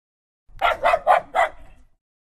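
A dog barks four times in quick, even succession, close and fairly loud against silence.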